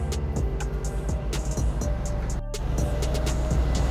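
A Mercedes-AMG GT63 with a muffler delete drones loudly with a throaty, unmuffled exhaust, briefly dipping before roaring back up.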